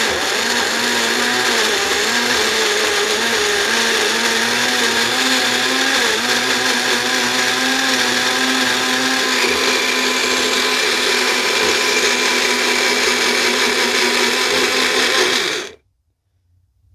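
A Bella personal rocket blender motor whirs loudly and steadily for about fifteen seconds mixing a milkshake, with a constant high-pitched hum, then cuts off abruptly into silence.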